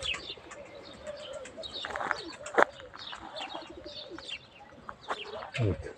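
Pigeons outside a loft coo repeatedly at close to moderate range, with scattered chirps and a brief burst of wing flapping.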